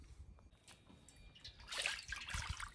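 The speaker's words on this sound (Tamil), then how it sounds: "இப்போ எண்ணெயை ஊற்றிக்கலாம்." Cooking oil poured into a heated pan for a village-style goat lung gravy, a faint quiet pause giving way to a short, soft trickle and light splatter near the end.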